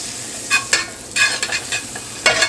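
Butter sizzles in a hot skillet on medium heat, with bright bursts of hissing and several quick scraping stirs against the pan; no talking.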